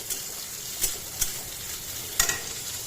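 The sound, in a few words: chopped garlic and onion frying in pan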